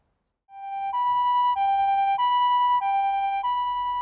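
A fire engine or ambulance siren in Japan sounds a clear two-tone wail that alternates steadily between high and low pitches. It starts after a brief silence and stays loud and close, with no voices.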